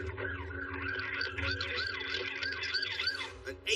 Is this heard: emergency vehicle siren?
yes